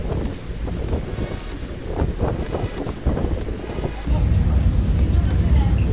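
Wind blowing across the upper deck of a mail jumper tour boat on Lake Geneva, Wisconsin: a steady, loud rush buffeting the microphone that swells stronger toward the end, with the hum of the boat underneath.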